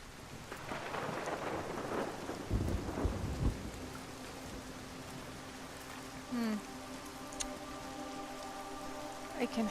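Steady rain falls in the video game Everybody's Gone to the Rapture, with heavy thunder rumbles breaking through early on and a sustained tonal hum joining later, all fairly loud and without speech.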